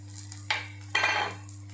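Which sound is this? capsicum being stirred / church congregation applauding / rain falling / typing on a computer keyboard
capsicum being stirred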